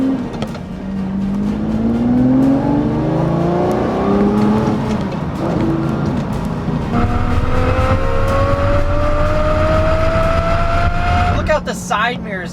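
An original gated-manual Lamborghini Murcielago V12 revving as it drives, the engine note climbing through a gear, dropping at a shift, then rising again, loud and close inside the cabin, with someone talking over it.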